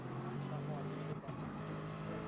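Race car engine holding a steady droning note in a Nürburgring GP racing video game, the throttle feathered gently out of the Mercedes arena corner, continuous and close with a brief dip midway, a voice talking over it.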